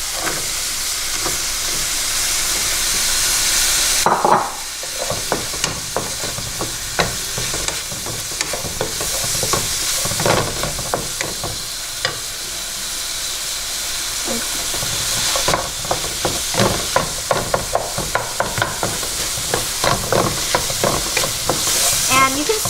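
Beef and onions for bo luc lac sizzle loudly in a hot pan, with a sudden burst of frying as ingredients go in, then ongoing stirring and scraping close by.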